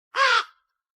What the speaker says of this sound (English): I'll send my crow to shadow your father's meetings.